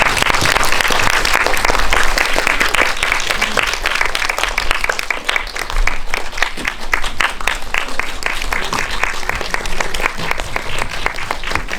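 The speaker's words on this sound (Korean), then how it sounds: "박수로 맞아주세요" A theater audience at a Korean film book-talk screening event applauds steadily as three guests, a journalist, a director and an actress, are welcomed onstage; dense, loud clapping runs the full length without pause.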